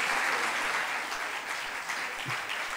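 A crowd claps steadily in sustained applause, a dense even patter of many hands without a break.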